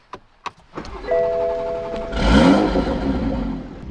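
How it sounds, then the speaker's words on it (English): Toyota Supra and Corvette C7 engines cranking and catching one after another, a few sharp clicks first, then a loud rising rumble that settles into a steady idle close by. "let's go ahead, turn on the Supra"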